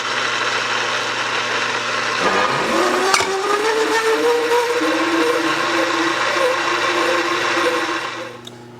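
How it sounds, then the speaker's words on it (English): A large reamer bores out an egg-shaped Saginaw steering gear housing, giving a steady mechanical grinding whir with a rising tonal whine midway, then winding down at the end. "Now what we're going to do is we're going to bore out that egg-shaped housing."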